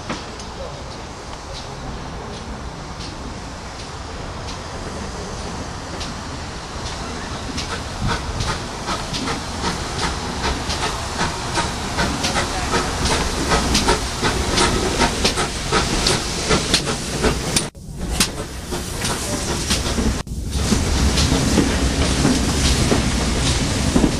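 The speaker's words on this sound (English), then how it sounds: "Please stand well back from the edge of the platform as the train arrives." A train pulls into a station platform, its steady loud hiss and rolling wheel noise building over the whole stretch, with brief dips near the end as it slows.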